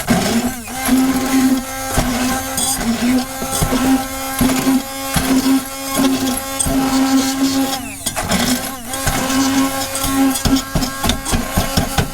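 A blender grinds bread into breadcrumbs with a loud, steady motor whine and choppy rattling pulses as the pieces tumble, running continuously close up without talk.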